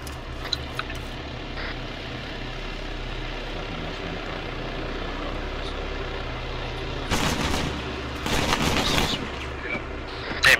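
Bursts of gunfire from a military tactical shooter game, set during a prison raid, crackle in irregular clusters toward the end over a steady low background rumble.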